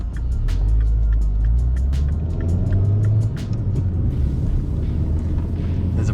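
A Mini John Cooper Works engine rumbles steadily from inside the car while driving around a roundabout, with a deep, continuous drone and road noise that eases slightly partway through.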